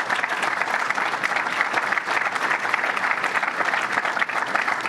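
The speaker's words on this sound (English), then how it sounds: "let's give you a big round of applause for the work you're doing here" Steady, dense applause from a crowd honoring a governor at an announcement held at the Halesite Fire Department, loud and sustained throughout without a break.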